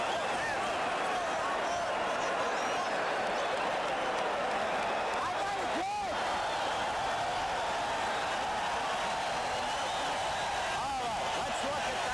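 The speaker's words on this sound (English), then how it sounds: "Now the crowd is alive" A boxing crowd roars continuously at the end of a heavyweight round between Frazier and Foreman, a dense steady cheer and clapping heard at a distance, with a commentator talking over it.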